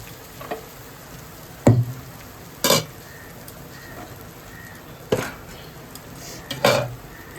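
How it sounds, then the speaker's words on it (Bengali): Chicken pieces going into a kadai of hot oil and spices, with a few sharp clattering bursts of contact and a low sizzle between them, close and fairly loud against a quiet kitchen background. "এবার আমি চিকেনটা দিয়ে দেবো।"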